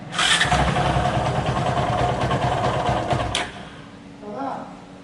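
A Bajaj Pulsar 220 motorcycle with an engine sound problem starts and runs, giving a loud, steady, rattling engine roar that cuts off abruptly, followed by a brief quieter revving as people talk nearby.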